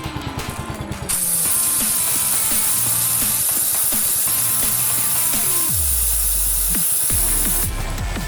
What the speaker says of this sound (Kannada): ಚೈನ್ ಲೂಬ್ ಮಾಡೋಣ.